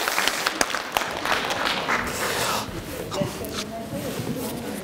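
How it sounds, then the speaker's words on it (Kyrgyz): Clapping from a gathered audience at a religious lecture on family life, a steady patter of hands lasting several seconds, fairly close and filling the room. "Кана кол чаап коюңуздарчы"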